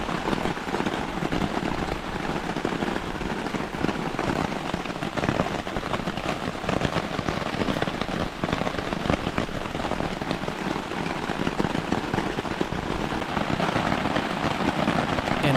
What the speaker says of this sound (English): The sky was covered with rain clouds, and a strong tropical rain began again.